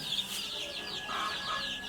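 Chickens clucking inside a poultry farm house with a straw-covered floor, a dense, continuous chorus of overlapping clucks and chatter from many birds close by.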